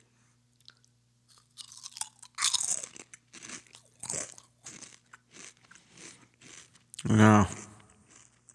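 Zapp's spicy Cajun Crawtaters potato chips crunch close to the mic in bursts of bites and chewing, with one loud crunch near the end. A voice speaks briefly in between.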